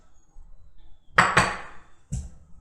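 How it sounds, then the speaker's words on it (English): A knife strikes a cutting board while dicing an onion, giving a quick pair of knocks and then a single later chop, close and fairly soft. "let's get started by dicing our onion"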